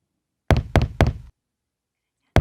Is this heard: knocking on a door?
yes